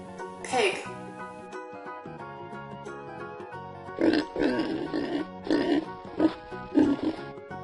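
A pig grunts in a run of short, throaty bursts close by, after an opening squeal-like call, with no talk.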